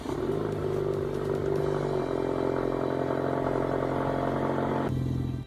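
A Pontiac Solstice in the game Driving Empire starts up and settles into a steady, fairly loud idle with a buzzy engine tone, then shifts pitch slightly near the end; nobody speaks.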